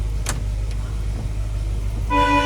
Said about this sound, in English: The horn.